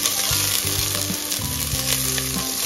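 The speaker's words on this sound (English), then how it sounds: "Okay, saute the onion." Onion sizzles in extra virgin coconut oil in a Saladmaster pan, a loud, steady frying crackle with faint stirring, heard alone without talk.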